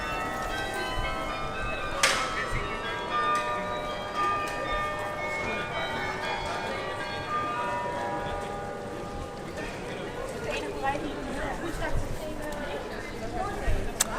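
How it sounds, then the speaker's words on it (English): Church bells ring out from a huge tower at a distance with sustained, overlapping tones, one louder strike standing out, over steady outdoor background noise. "can you hear the bells from this huge tower?"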